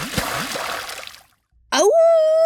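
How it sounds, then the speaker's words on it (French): A short splash and slosh of liquid as a wolf drops into a pot of boiling soup, followed by silence and then a loud rising howl-like cry. "Éclaboussure."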